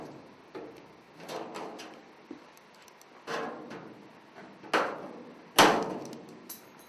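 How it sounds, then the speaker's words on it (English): Sheet metal corner being notched with snips or a hammer, a series of sharp metallic clacks and bangs at irregular intervals, close and moderately loud, the last strikes the strongest. "So I'll make my notch about 3/4 of an inch up."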